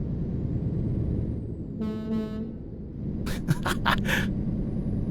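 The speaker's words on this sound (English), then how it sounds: "air horns sound pretty amazing" A truck air horn in Euro Truck Simulator 2 gives a short blast, then several quick toots, over the steady drone of the truck's engine as it drives along.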